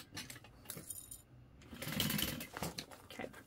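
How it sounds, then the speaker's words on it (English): A sewing machine runs along the second side of a bag gusset, a steady continuous whir with shifting intensity, close and moderately loud with small clinks mixed in. "It is a little bit harder sewing the second side, but it's not bad, I promise."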